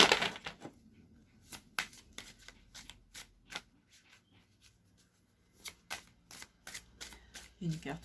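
Tarot cards are shuffled for a reading in a series of crisp riffling bursts with short pauses between them, up close, with a voice speaking quietly in the gaps.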